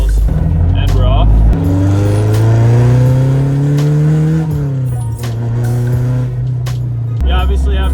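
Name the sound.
Honda Civic driving, transmission bearing noise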